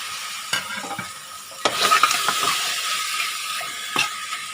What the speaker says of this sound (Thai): ผัดหมูสามชั้นให้เซ็ตตัวนะคะ